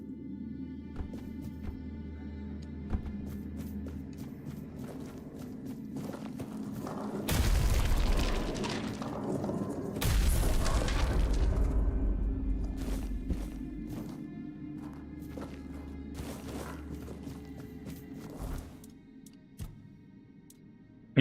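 Two heavy blasts from an exploding morning star weapon in the Tainted Grail video game. Each is a deep boom that rings out over several seconds. Quieter game ambience and footsteps come before and after.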